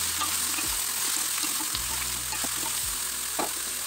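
Chopped green mango frying in a pan for a sweet and sour chutney, a dense steady sizzle with a few stirring scrapes and clicks, close and continuous.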